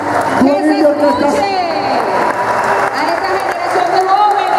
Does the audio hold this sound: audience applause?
yes